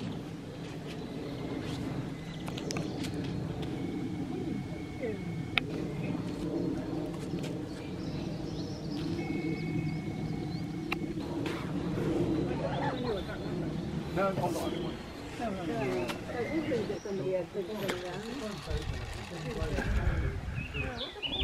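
Small birds, robins among them, call and chirp near a stop on a heritage diesel railway as they are fed pasty crumbs, with steady chatter from people nearby over a background hum.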